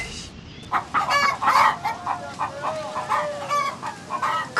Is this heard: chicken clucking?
yes